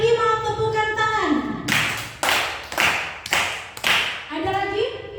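Five loud, evenly spaced claps from a group of teachers in a training session, struck together in unison between stretches of speech.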